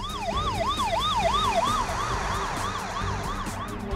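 An emergency siren from a district office parking enforcement vehicle wails in a fast rising-and-falling yelp, loud and close at first, then shifts to a slower sweeping tone over traffic noise on a street in Cheongju, South Korea.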